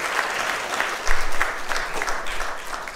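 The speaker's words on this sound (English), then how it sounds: "Give them a cheer." A church congregation applauds and cheers for the praise and worship team after an evening service, a steady wash of clapping from a full room with a low rumble of voices swelling midway.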